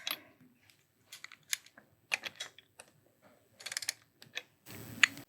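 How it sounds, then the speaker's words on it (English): A wrench works on a pistol slide's sight dovetail while a red dot is fitted: sparse, close metallic clicks and ticks in irregular bursts, with short quiet gaps and a brief scraping rush near the end. "we'll take our handy dandy wrench"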